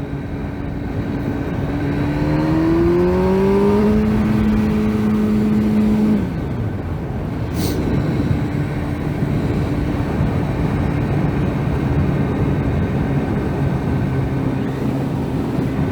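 A 2009 Kawasaki ZX10R sport bike ridden out on the road toward sunset, its engine droning steadily and loud with a rising tone as it accelerates, then settling into a constant cruise under heavy wind rush.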